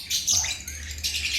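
Parakeets and lovebirds in an aviary chatter and chirp noisily in quick overlapping bursts, close and fairly loud, with a low background hum.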